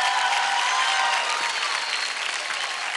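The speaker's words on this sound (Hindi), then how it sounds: "जोरदार तालियां हो जाए सनम के लिए।" A studio audience at a televised dance competition applauds loudly and steadily, a dense wash of clapping that holds at full strength for the whole stretch.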